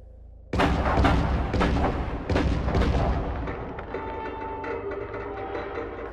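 A series of heavy booming gunshots rings out in the distance, several sharp reports in irregular succession, each with a rumbling echo that trails off into a lingering reverberant tail.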